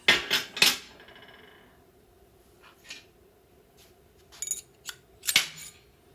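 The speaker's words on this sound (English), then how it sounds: "I keep hammering on that metal inner race of the bushing until it drops out into my socket" A hammer strikes the metal inner race of a track bar bushing on a 1985-1997 Ford F350, ringing out in short bursts of sharp metallic hits separated by quiet pauses.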